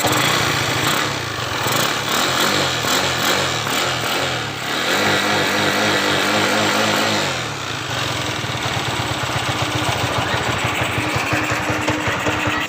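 Motorcycle engine with an adjusted pulser running steadily and loud, a rough buzzing idle that holds for the full stretch with slight changes in tone, and no talk over it.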